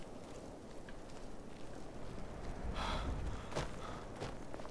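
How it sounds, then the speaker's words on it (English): A Skyrim character breathes heavily in a few deep, breathy gasps and exhales over a low windy background, fairly close, with one louder huff near the middle. "what's with the heavy breathing?"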